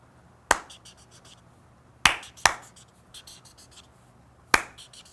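Four sharp finger snaps during a children's counting game, spaced irregularly with two close together, crisp and fairly near in a quiet room with no talking.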